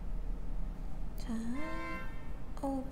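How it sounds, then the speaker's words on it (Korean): Two car horn honks sound outside during evening rush hour, a longer one followed by a short one, faint and distant over a low background hum. "역시 퇴근 시간이라 그런가 빵빵거리는 소리들이 들리는군요."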